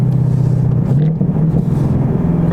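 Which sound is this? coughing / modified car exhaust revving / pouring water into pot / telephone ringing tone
modified car exhaust revving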